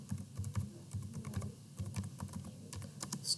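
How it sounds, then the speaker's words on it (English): Typing on a computer keyboard, with close, quiet, irregular clusters of key clicks and brief pauses between runs. No one talks. "Here I will type my name."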